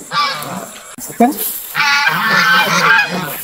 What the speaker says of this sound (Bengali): চীনা হাঁস রাজা হাঁস একদম ছোটা অনেক সুন্দর